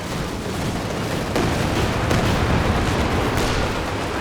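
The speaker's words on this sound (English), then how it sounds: "Grenadier is dead to a nasty Katyusha barrage" A Katyusha rocket barrage in Company of Heroes 2 roars as a loud, continuous, dense rumble of rapid rocket launches and blasts with no pauses.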